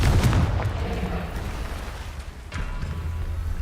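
Confringo explosive spell cast in the video game Hogwarts Legacy, a heavy booming impact at the start that rumbles and fades, followed by a second, softer blast with a lingering low roar.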